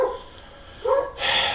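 A dog barks somewhere in the background of a room, giving two or three short, medium-loud barks within a second and a half, with no talking over them.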